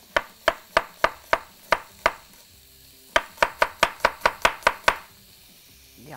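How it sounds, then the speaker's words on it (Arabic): Knife chops an onion and a garlic clove on a cutting board in a home kitchen, sharp evenly spaced thuds in two quick runs with a brief pause between, close and clear. "نحط البصلة ونحط فص توم كده نقطعه شرايح"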